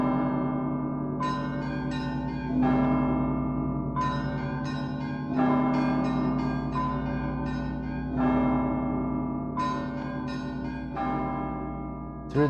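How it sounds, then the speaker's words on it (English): The great Rostov church bells ring in a steady, overlapping peal, deep strikes recurring every few seconds with long resonant hum beneath, loud and close. "the crown bearers listened to the ringing of the great Rostov bells"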